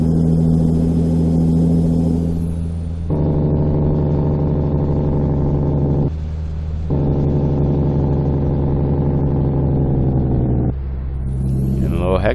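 Heavy International 9300 truck engine in American Truck Simulator, a steady deep rumble with strong low harmonics that rises in pitch through revving gear pulls, dropping briefly between shifts and continuing loud and close.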